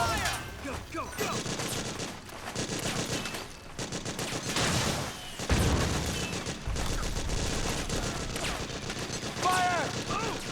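Rapid sustained gunfire in Metal Gear Solid 4 combat: dense bursts of automatic fire and overlapping shots continue almost without pause. Heavier impacts punctuate the barrage, and shouting soldiers are heard throughout.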